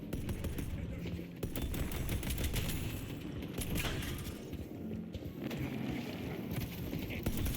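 Turret gunfire from the video game Paragon rattles in rapid, continuous bursts down a hallway, dense and fairly loud throughout with a faint voice briefly under it.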